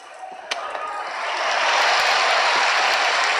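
A stadium crowd roars in the mobile football game Dream League Soccer 2019, a broad, loud wash of cheering that swells and holds steady after a couple of sharp knocks at the start.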